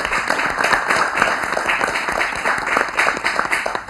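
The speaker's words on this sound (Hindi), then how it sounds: "अभी दिल खोल के तालियां बजाए ना।" Studio audience on a Pashto-language morning TV show claps throughout, dense and steady rapid applause with individual sharp claps standing out, fairly close and loud, no talking over it.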